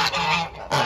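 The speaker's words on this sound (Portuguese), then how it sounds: "Os filhotinhos de ganso africano." African goose goslings honking close by, two loud, harsh calls in quick succession that fill the moment.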